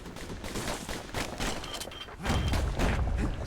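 Twin slinger pistols fire in Bastion, a dense run of rapid overlapping shots with heavy low thumps swelling louder toward the end, no voices.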